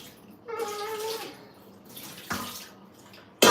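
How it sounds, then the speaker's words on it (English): Water splashes and runs in a sink as nuts are rinsed, two brief bursts of flowing water with quiet gaps, ending in a sudden louder gush close by. "So I'll give it another rinse."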